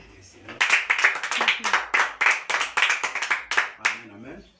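A church congregation claps in steady, rhythmic bursts that build and carry on for several seconds, with voices mixed in under the clapping.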